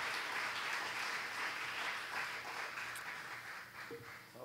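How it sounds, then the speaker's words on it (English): Audience at the 2016 Clinton County 4-H Fair Queen Contest gives a round of applause for the queen contestants, moderately loud steady clapping from a mid-sized crowd that gradually thins toward the end. "give them a round of applause"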